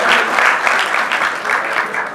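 Audience applause at a Punjabi book awards ceremony, a steady wash of many hands clapping, loud and sustained throughout without voices over it.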